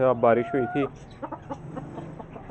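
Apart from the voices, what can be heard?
hens clucking noisily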